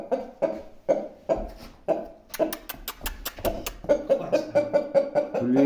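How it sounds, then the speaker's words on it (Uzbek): A recently fought rooster, a shamo-type fighting breed, makes rough clucking and guttural calls in a steady series of short bursts, close by, with a quick run of sharp clicks partway through. "Hozir urushgan xo'rozchamiz mana."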